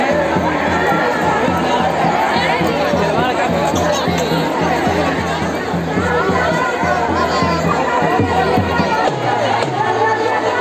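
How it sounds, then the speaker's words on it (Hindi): A dense crowd at a Chhath Puja ghat fills the air with loud, continuous chatter and overlapping voices, occasional shouts and a steady droning tone running underneath, close and unbroken throughout. "देखिए बहुत ज़्यादा भीड़ है"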